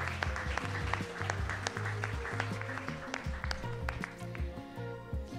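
An audience at a multiple sclerosis association evening applauds in a hall. The clapping is steady and moderately loud, with a low musical tone humming underneath.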